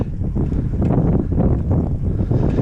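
Steady wind buffeting a microphone while cycling, a continuous low rumbling roar with gusty swells throughout and no voices.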